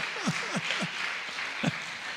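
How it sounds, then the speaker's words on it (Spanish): A church congregation applauds faintly in the background while a preacher's voice rises and falls over the clapping in short bursts. "Da un aplauso al Señor."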